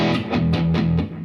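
Distorted electric guitar through an amp on the bridge pickup, chugging out a steady rhythm of roughly five gritty chord hits, loud and close with no talking.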